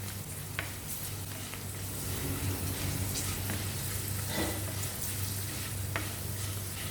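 Papadam frying in hot oil for a Kerala-style drumstick leaves curry, a steady close sizzle and crackle with a low hum beneath and occasional stirring clicks, no voices.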